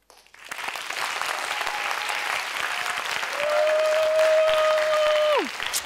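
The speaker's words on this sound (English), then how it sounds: "Yeah, some applause." Applause from a room full of people at a science symposium presentation claps steadily for several seconds, with a tone sweeping down near the end.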